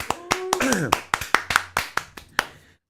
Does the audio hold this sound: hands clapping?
yes